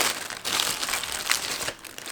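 A plastic bag holding two mini Bic lighters is handled up close, giving dense, continuous crinkling with brief louder rustles and no talking.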